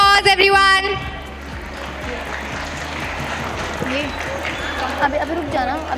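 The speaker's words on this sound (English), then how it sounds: "Let's give a big round of applause, everyone." Applause rises from an audience at a school investiture ceremony after a short burst of music, becoming a steady mass of clapping with voices and a speaker talking through it toward the end.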